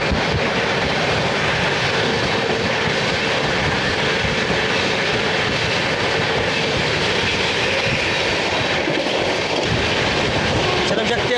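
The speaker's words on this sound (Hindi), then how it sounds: "तो चलिए दिखाते हैं आपको बर्थना का स्किप और श्रम शक्ति एक्सप्रेस की क्रॉसिंग" Shram Shakti Express thunders past on the adjacent track during a crossing, heard from aboard a moving train, with a loud, continuous rumble and rail clatter lasting throughout.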